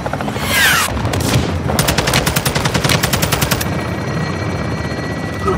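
A helicopter gunship in Call of Duty Modern Warfare 2 opens up with rapid, loud machine-gun bursts during pre-assault fires. The shots rattle in quick repeated streams over a rotor drone, then fade to a lower rumble.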